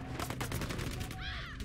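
Gunfire and explosions from the Battlefield video game, a dense continuous barrage of shots and blasts filling the whole moment, with a brief high whistling sweep near the end.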